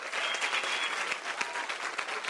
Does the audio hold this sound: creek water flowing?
no